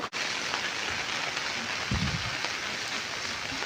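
Heavy rain pours down on a village during a violent storm. It makes a dense, unbroken hiss from start to finish, with a brief low thump near the middle and no voices.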